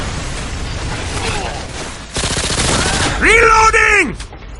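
Rapid gunfire bursts in Modern Warfare 2 crackle loudly over a game soundtrack, with a voice speaking as the shots continue.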